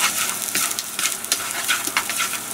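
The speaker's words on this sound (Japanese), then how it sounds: "こうやって麺を炒めるんですね" Noodles stir-fried in oil for takeout Jiro-style ramen: a steady, hissing sizzle with scattered crackles and soft scraping clicks, close and continuous, with no voices.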